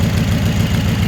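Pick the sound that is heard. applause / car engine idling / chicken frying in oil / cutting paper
car engine idling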